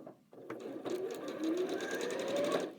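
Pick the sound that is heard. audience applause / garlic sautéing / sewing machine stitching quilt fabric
sewing machine stitching quilt fabric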